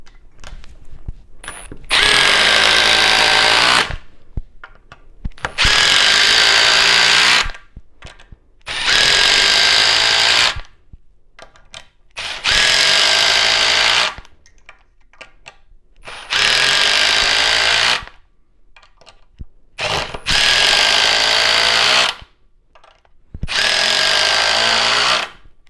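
A Milwaukee Surge impact driver running on a fresh 5 amp-hour battery, heard in seven long, loud bursts of a few seconds each, with short quiet gaps between them.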